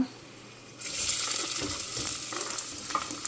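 Onions dropped into hot oil set off a loud, steady sizzle that starts suddenly and keeps crackling, with a few light stirring knocks and no talk.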